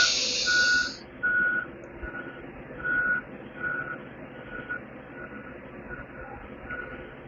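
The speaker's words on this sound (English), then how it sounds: "I am so sorry about that flippin' beeping." Repeated electronic reversing beeps from a vehicle, evenly spaced and moderately loud, over a steady low engine rumble, with a brief high hiss at the start.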